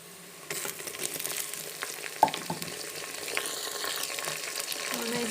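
Onion, tomatoes and green chillies frying in a pan while making matar pulao, a steady sizzle that swells as the tomatoes and chillies go in, with a sharp clink of a utensil and stirring scrapes.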